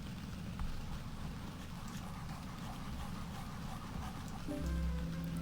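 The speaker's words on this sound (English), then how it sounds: "I do not like this raining sound effect" Steady rain sound effect from the handheld game Viva Piñata: Pocket Paradise, a continuous hiss of falling rain with faint game tones entering near the end.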